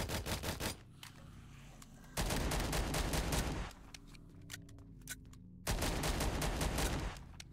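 AK rifle fire in the video game Call of Duty Black Ops 6 comes in three loud bursts of rapid automatic shots, separated by quieter gaps of game ambience.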